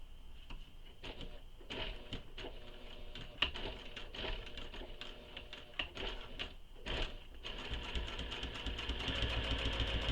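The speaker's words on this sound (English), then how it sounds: "now we're going to stitch along this bottom edge, just the bottom edge, using the seam allowance given in the pattern" A sewing machine stitches a structural seam along the bottom edge of a handmade espresso wallet, running in a steady rapid mechanical patter with brief pauses and restarts, growing louder and more continuous toward the end.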